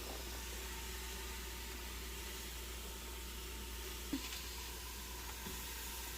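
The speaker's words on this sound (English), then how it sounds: "We drop the butter, half a stick of butter in there, and we're just going to let that come on in" Half a stick of butter sizzling in a hot pan with a ribeye steak, a steady dense hiss throughout with one small pop near the end and no talking.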